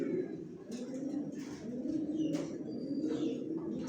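Pigeons in a racing pigeon loft coo in a steady low murmur that runs throughout, with a few faint chirps above and no talking.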